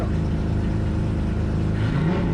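A V8 drift car engine revs loudly and steadily at a grassroots drifting event, a deep throaty rumble with rising and falling pitch, close by and continuous throughout.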